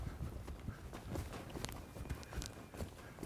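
A horse trotting keeps up a steady, even clip-clop of hooves at moderate distance, a rhythmic beat over light background noise with no talking.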